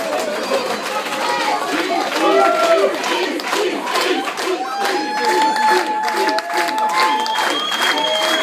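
Crowd at a wedding cheering and clapping after a surprise dance performance, dense sustained applause mixed with shouts and whistles, while someone speaks over it.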